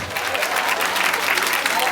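Crowd clapping at an end-of-year party, a brief dense burst of applause that stays steady throughout, close and fairly loud with some voices mixed in.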